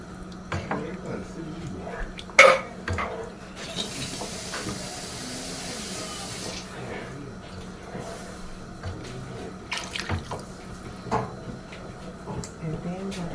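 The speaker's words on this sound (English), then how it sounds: "we're going to add some water to those cans." Water poured into cans in a home kitchen, a brief hissing stream lasting a couple of seconds amid quiet clatter and intermittent talking.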